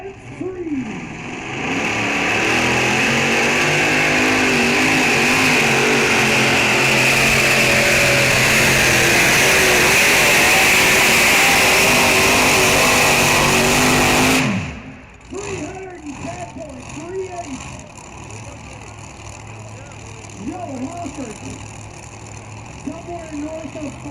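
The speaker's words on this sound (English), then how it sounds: "Setting the bar in the super modified tractor class." A super modified pulling tractor of roughly 5,000 horsepower roars down the track at a night pulling event, a loud sustained engine blast for about fourteen seconds that cuts off abruptly, followed by crowd noise and a distant announcer voice.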